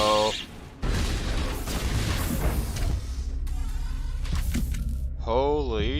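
Big explosion in the Mass Effect Legendary Edition sci-fi game, a sudden loud blast followed by sustained low rumbling and roaring debris, with warbling sci-fi effects layered on top near the end.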